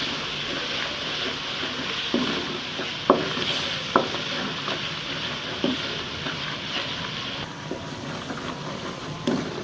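Spices and fish curry masala with salt, ground chilli and turmeric sizzle in a pan, with a steady frying hiss broken by a few light clicks and scrapes of stirring.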